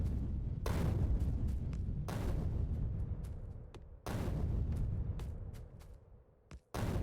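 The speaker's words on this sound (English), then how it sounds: "That was a waste of a grenade" A grenade goes off in Factorio, part of a run of several heavy booms and blasts. Sharp, loud onsets give way to rumbling decays, and the explosions repeat at irregular intervals.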